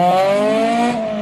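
Honda Civic CX hatchback engine catching after a push start, a loud, steady buzzing drone with a strong even pitch for about a second before easing slightly.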